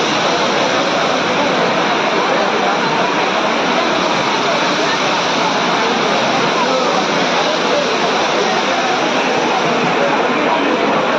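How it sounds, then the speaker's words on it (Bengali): Heavy monsoon rain pours down outdoors on Havelock Island in the Andamans, a loud, unbroken roaring wash of water that holds steady throughout. "বাইরে মুষলধারে বৃষ্টি শুরু হয়ে গেছে।"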